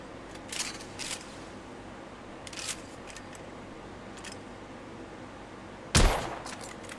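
A scoped long-range rifle fires a single sharp, loud report near the end, in The Order: 1886. It rings out after several seconds of quiet game ambience with a few faint scattered noises.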